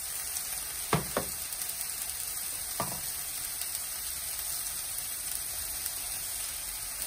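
Chicken pieces and onion browning in a pan, a steady faint sizzle with a few sharp taps from stirring.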